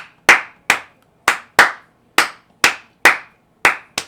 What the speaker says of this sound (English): like clapping a clave